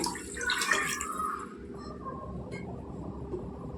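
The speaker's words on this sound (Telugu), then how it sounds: "గ్లాసున్నర నీళ్ళు వేసుకుంటున్నానండి నేను" Water poured from a glass into a pot of tamarind-leaf chicken curry in a home kitchen: a short splashing pour in the first second and a half, then a low simmering bubble.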